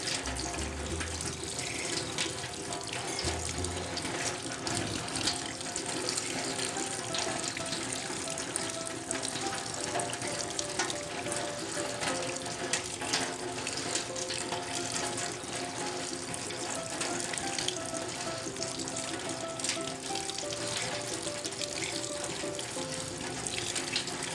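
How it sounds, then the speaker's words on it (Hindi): Raw fish being washed by hand under a running kitchen tap to rub off flour and blood, a steady loud rush of water over the sink with faint handling splashes throughout. "इसी तरह से आपने मसल के धोना है इसको, ताकि आटा भी उतर जाए"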